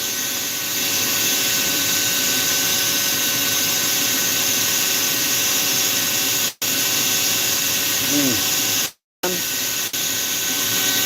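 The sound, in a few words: rotary tool fine burr carving poplar wood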